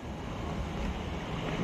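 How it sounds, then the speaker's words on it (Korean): Ocean waves surge in a steady, rushing wash of broadband noise, loud and continuous, with wind buffeting the microphone and no voices. "갑자기 파도가 몰려"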